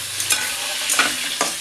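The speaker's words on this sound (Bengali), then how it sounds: "আদা তেল, চিংড়ি মাছ কটা ভেজে নেব।" Prawns fry in ginger-flavoured oil, a constant crisp sizzle broken by a few quick stirring scrapes in the pan.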